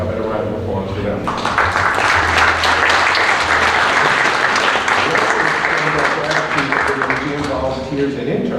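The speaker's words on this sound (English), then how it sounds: "How about a round of applause for them?" Audience applause at a museum's Black Heritage Night event: a voice speaks briefly, then a loud, sustained round of clapping swells and holds for several seconds before easing off.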